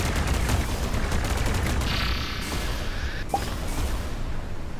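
Rapid gunfire in the shooter game Arsenal, a dense, loud fusillade of overlapping shots with whooshing effects running without a break.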